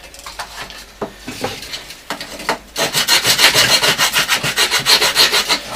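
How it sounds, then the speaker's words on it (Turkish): Rhythmic rasping strokes of sandpaper rubbing over wood of a model minesweeper ship, starting slow and sparse then settling into steady, fast back-and-forth scrubbing close up. "zımparayı kullandığımız zaman şu bölümlere gördüğünüz şu bölümlere çok rahat giriyor"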